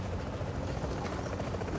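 Helicopter in the game Tom Clancy's The Division, a continuous dense rotor roar and whir that stays steady and fairly loud throughout, with no talk over it.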